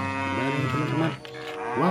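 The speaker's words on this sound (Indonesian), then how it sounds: "Di sini ada suara sapi lagi" Cow moos loudly and close in a toy-like cartoon setting, a long low call lasting over a second followed by a rising second moo, with a person briefly talking over it.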